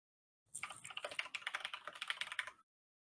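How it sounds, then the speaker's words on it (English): A rapid flurry of computer keyboard typing, dense irregular key clacks for about two seconds, close and clear with no talk. "we heard a flurry of typing"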